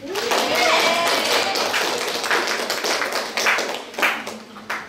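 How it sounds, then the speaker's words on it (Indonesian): Classroom audience clapping after a civics class debate simulation, a dense burst of hand claps that stays steady, then thins into scattered claps near the end, with some murmuring underneath. "Ya tepuk tangan untuk semuanya"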